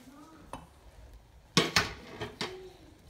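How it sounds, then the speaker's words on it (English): Cooked brown rice tipped from a container into a pot, a few sharp scrapes and knocks of a spoon against metal clustered together, fairly close, with quiet kitchen background between them. "I will transfer it to another pot, and I will add the brown rice."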